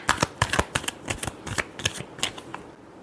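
A deck of tarot cards is shuffled in quick, crisp riffling snaps that come in uneven bursts, close and clear with nothing else heard.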